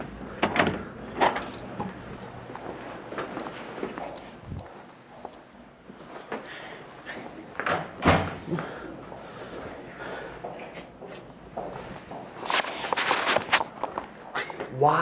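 A door at a university business administration building is opened and shut repeatedly, giving sharp thuds, rattles and sliding scrapes amid footsteps, with people talking over it.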